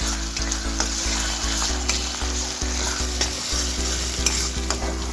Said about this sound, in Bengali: এবার আমি দিয়ে দেব 1 চামচ আদা আর রসুনের পেস্ট। প্রায় 2 মিনিট আমি হাই ফ্লেমে ভেজে নেব।